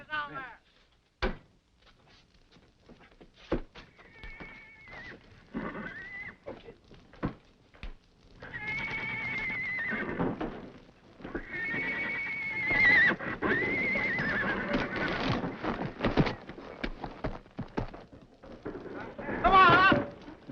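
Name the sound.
horses neighing and moving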